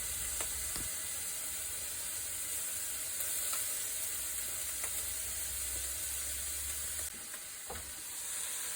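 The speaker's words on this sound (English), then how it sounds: "I'm gonna go ahead and add my bacon pieces, and we're gonna cook that bacon until it's nice and crispy" Bacon pieces fry in an oiled wok for crab fried rice, giving a steady, close sizzle with a constant hiss and occasional small crackles and pops, with no talking over it.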